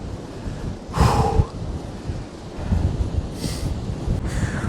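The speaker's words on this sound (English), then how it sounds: "It was getting a little bit too windy." Strong Storm Floris wind buffeting a hilltop, roaring gusts blasting across the microphone in several loud surges over a constant rushing background.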